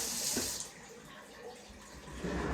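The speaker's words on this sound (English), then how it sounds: "Whisks are best rinsed off immediately." Running tap water splashes into a sink as a whisk is rinsed, steady and close, with the flow easing briefly before picking up again.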